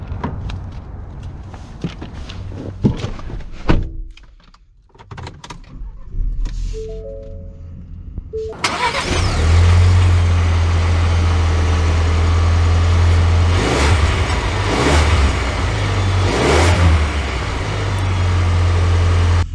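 A Ford Ranger Tremor XLT pickup starts after some clicks and handling noises, then its engine rumbles loudly and steadily up close as the truck gets underway.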